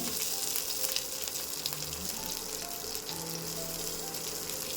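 Onion and asafoetida fry in a pan with a bright, steady sizzle and light crackle, close and fairly quiet, and no one talks.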